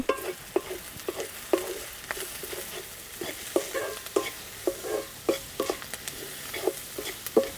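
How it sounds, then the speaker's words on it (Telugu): Onions fry in oil in a pan with a soft, steady sizzle. Sharp scraping stir strokes come at a regular rhythm, close up and fairly quiet, with no voices. "ఉల్లిపాయలు ఈ విధంగా వేగాలండి"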